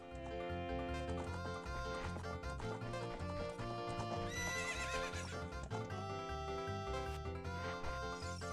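Horse in The Legend of Zelda: Ocarina of Time, a whinny and clip-clopping hooves heard under loud tonal game music.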